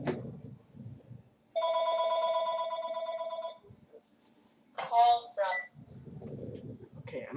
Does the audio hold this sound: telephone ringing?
yes